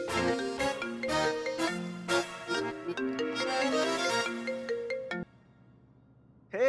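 A phone ringtone plays a bright melodic jingle of repeated tones for about five seconds, then cuts off, leaving a quiet pause before a sudden loud burst at the end.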